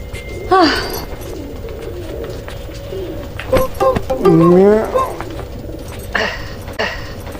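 A pigeon coos several times, soft throaty warbles close by, with people talking and household noise around it.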